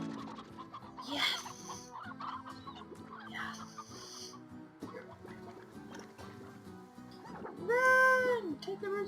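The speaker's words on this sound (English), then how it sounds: "Oh, there's a rooster!" A rooster in the video game Slime Rancher clucks in short bursts, with background game music and a player's excited voice in the mix.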